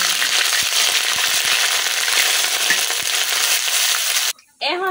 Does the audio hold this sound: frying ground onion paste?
yes